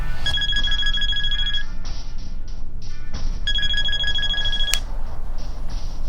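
A cell phone rings loudly in two bursts of bright electronic trilling, each about a second and a half long, over a steady broadband background noise without speech.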